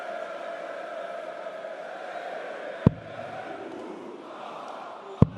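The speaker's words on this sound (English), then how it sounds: "Nearly a capacity crowd tonight." Steady murmuring crowd fills the hall at a darts final in Riesa, a near-capacity audience producing a continuous roar with two sharp, brief thuds standing out.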